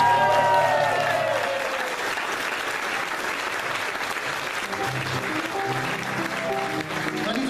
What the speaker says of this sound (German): Gebt mal einen schönen Applaus für das Team von der Komödie Dresden.